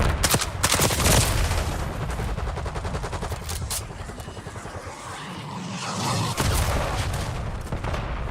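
A Hellstorm strike lands in Call of Duty: Black Ops 6 with loud, rapid bursts of gunfire and explosions. A dense rumble swells and fades across the stretch, broken by sharp cracks and rattling salvos.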